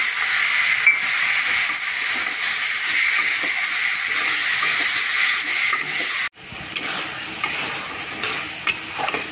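Tomato and green peas fry in a little oil in a pan with a constant close sizzle, which breaks off abruptly and resumes quieter, punctuated by light stirring clicks.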